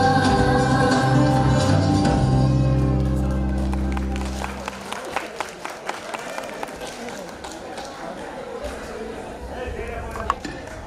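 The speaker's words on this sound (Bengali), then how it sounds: "আমরা সবাই একটা জোরে করতালি দিই।" Audience clapping for a Dhaka Dance and Art Centre dance performance rises out of the final sung bars and continues as a steady, moderately loud crowd applause with scattered sharper claps.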